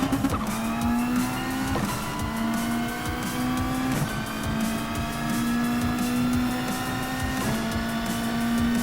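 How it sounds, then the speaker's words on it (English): A rally car engine revs hard in Gran Turismo Sport, climbing through repeated gear shifts with a steady loud whine, while tires squeal briefly during cornering. "So these seem to be rally and rallycross cars."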